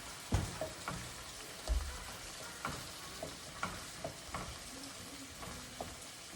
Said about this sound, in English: So we're gonna add that ground meat in, and then we're going to break it down and season it.